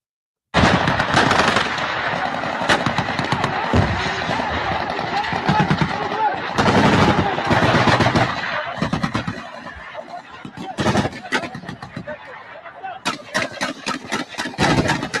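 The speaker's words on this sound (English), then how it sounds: "hear the exchange of gunfire" Rapid bursts of automatic gunfire and scattered single shots at a military base, loud and harsh, coming in repeated volleys with brief lulls between them.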